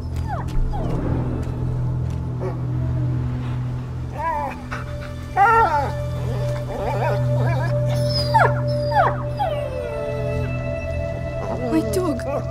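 A dog in the video game A Plague Tale: Innocence whimpers and howls in drawn-out, wavering cries, close and fairly loud, with voices talking over the sounds throughout.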